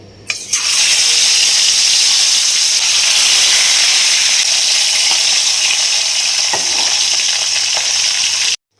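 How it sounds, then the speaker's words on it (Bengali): Hilsa fish sizzling in hot oil in a wok, a loud steady frying hiss that runs unbroken for several seconds before cutting off abruptly. "আমি কড়াতে তেল গরম করে ইলিশ মাছগুলো ভেজে নেবো"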